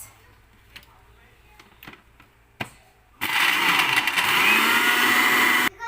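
A loud electric mixer grinder starts after a few soft clicks and whirs steadily for a couple of seconds grinding a curry paste, then cuts off abruptly.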